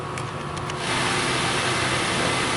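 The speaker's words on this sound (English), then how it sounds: "let me go ahead and start the car up" A Hyundai Sonata engine with a lean fault catches and settles into a steady idle, its low hum continuing evenly after a short burst of noise at the start.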